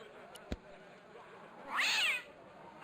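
Cat meow in the Broken Sword adventure game: one drawn-out, rising then falling meow about midway, preceded by a sharp knock or click, otherwise quiet.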